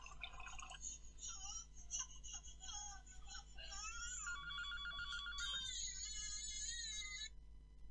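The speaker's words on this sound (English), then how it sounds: "That was Jack on the phone." A telephone ringing indoors, a warbling electronic ringtone of repeated bursts that shift in pitch, quiet and continuous against a low background hum.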